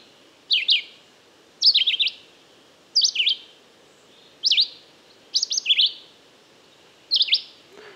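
A bird sings through a parabolic microphone in six short bursts of rapid, bright chirping notes, close and clear, separated by pauses over a faint windy background.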